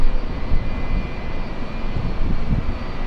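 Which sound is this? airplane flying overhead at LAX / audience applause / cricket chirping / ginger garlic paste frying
airplane flying overhead at LAX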